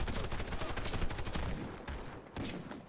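Rapid gunfire from the online shooter Warface, dense bursts of shots crowding the first half and then thinning out, loud and close with no talk.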